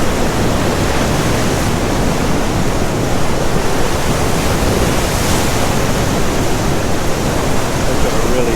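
Large ocean swell surging and receding on the shore at Crescent Head, New South Wales, at sunrise, a dense, loud, continuous wash of surf close by with no breaks.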